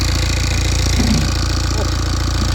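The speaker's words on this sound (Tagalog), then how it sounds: "I just need to know if the engine starts and it runs." A rebuilt BMW N47 engine runs loud and close at a steady idle with its exhaust pipe disconnected, producing a continuous rhythmic rumble and clatter.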